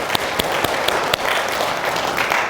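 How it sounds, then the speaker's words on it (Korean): A church congregation claps together in steady, moderately loud applause lasting a couple of seconds, with sharper individual claps standing out. "하나님 앞에 영광의 박수 한번 돌리겠습니다"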